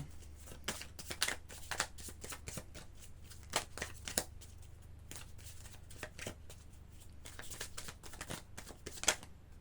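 Tarot cards are handled and laid down one after another, giving a steady run of crisp, close card flicks and soft slaps with short pauses, quiet throughout and with no one speaking.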